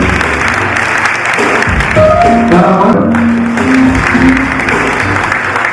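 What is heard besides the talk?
audience applause at a party convention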